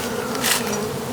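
Dense, steady buzzing of many honeybees in an opened hive during the first spring inspection, a close, continuous drone that swells slightly midway.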